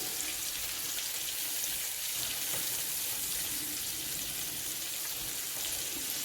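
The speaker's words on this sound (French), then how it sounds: "Maintenant, on dore les crevettes. On va les dorer." Shrimp sizzle in a frying pan as they brown, a steady dense hiss of hot oil throughout, close and even, with faint clinks now and then and no speech.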